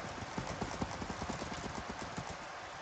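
Horse hooves clop in the Minecraft video game, a steady rapid run of hoofbeats heard close and alone with no talking.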